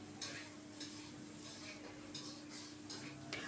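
Turmeric and spices for a Bengali-style Gandhoraj katla fish curry being stirred in a pan, a continuous quiet sizzle broken by repeated scraping clinks of a spatula against the metal, steady and close.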